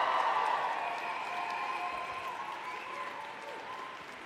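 Graduating class applauding family, friends, faculty and staff at a graduation ceremony: steady, dense clapping from a large crowd in a hall, holding fairly even throughout and easing slightly toward the end.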